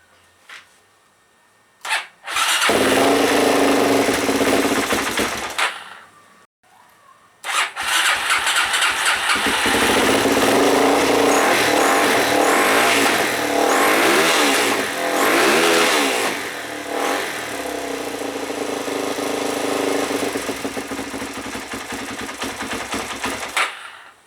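Suzuki DRZ400 motorcycle engine with a freshly fuelled carburettor, cranked with a brief sputter, stalling, then restarting into a loud close idle with repeated revs that rise and settle before cutting off.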